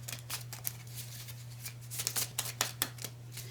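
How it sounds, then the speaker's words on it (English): Quiet, quick riffling and flicking of tarot cards being shuffled in bursts, close by, over a low steady electrical hum. "And this is how I shuffle my cards."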